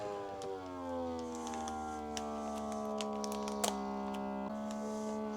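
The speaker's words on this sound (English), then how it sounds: "It's just sealing it." A FRESKO automatic vacuum sealer heat-sealing a chip bag without vacuuming gives a steady, close mechanical hum with layered tones running the whole time, broken by a couple of brief clicks near the end.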